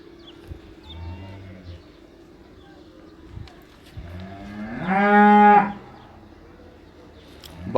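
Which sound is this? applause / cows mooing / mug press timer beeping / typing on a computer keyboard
cows mooing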